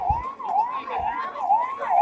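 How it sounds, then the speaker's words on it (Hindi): An ambulance siren wails in a repeating rising-and-falling pattern during snowfall in Shimla, loud and fairly close, with low rumbling thumps underneath. "एम्बुलेंस आ गई है"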